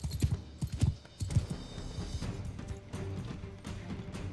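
Horse hooves clip-clop in a video game, a few loud irregular thuds near the start giving way to a steady busier clatter of movement and combat noise, without speech.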